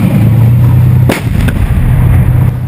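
A tank gun fires in urban combat in Jobar, Syria, shooting from cover at an annex next to a building, one loud sharp blast over a constant heavy engine rumble.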